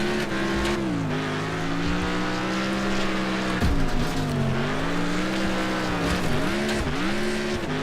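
Race cars in Next Car Game driving on dirt and mud, with a loud, continuous engine drone that rises and falls with gear changes and throttle, plus rough gravelly tire noise throughout.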